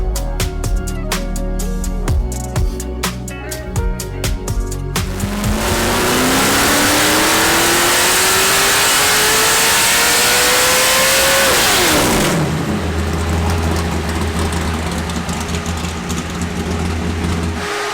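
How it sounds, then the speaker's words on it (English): A 632 big block V8 swapped into a BMW, idling with a rough lope, then revving hard in a long, rising roar before dropping back to a loud, burbling idle. "at first it sounds like an airboat, then it sounds like a monster truck"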